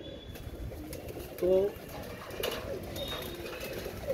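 Pigeons coo in a low, intermittent murmur during a check on loft birds being treated for loose droppings, with someone speaking over them throughout.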